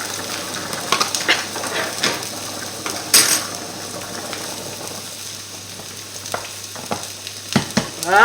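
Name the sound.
mashed potato purée cooking in a pan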